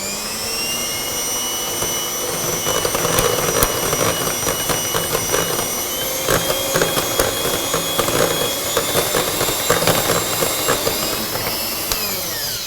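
An electric mixer runs at top speed whipping cream with icing sugar for a strawberry chocolate mousse, giving a loud, steady high-pitched whine with rapid rattling beater clatter throughout.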